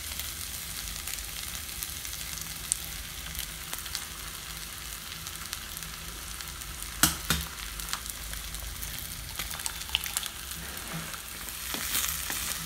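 Two eggs cracked into cooked drumstick leaves frying in a pan, a constant close sizzle with scattered clicks and scrapes of stirring, no voices.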